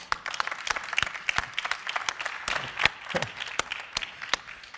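A small audience claps for an award winner coming on stage at a young watchmaking talent competition. The claps are sparse and distinct, fairly close, and continue for several seconds.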